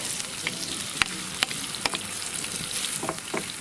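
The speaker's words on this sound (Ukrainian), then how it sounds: "3 хвилинки перчик трошки під смажиться" Bell pepper sizzles steadily in a pan for a zucchini bolognese, with the clatter and scrape of occasional stirring cutting through the continuous frying hiss.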